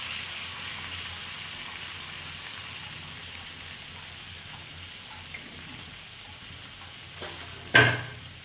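Lobster pieces frying in butter in a pan, a steady soft sizzle running throughout, with a short knock of cookware near the end.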